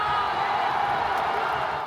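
A packed stadium crowd cheers and roars through the World Baseball Classic final, a steady, dense wall of voices that stays loud and unbroken from start to finish.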